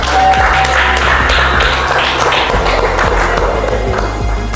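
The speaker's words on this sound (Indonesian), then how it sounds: "Tepuk tangan." Students clapping together in a classroom, a dense, loud burst of applause that holds steady for several seconds with scattered sharper claps.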